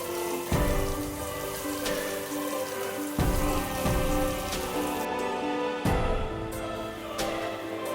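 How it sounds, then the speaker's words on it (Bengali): Onion frying in a pan over low heat, a dense close sizzle and crackle that surges in a few waves, alone with no talk. "পেঁয়াজটা একটু ফ্রাই করে নেব।"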